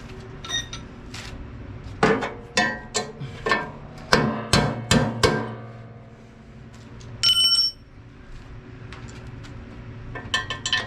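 Sharp metallic hammer strikes on a punch driving a heated pin out of a snowblower part, about a dozen ringing blows in uneven bursts, loud and close, with a brief scraping rattle between them.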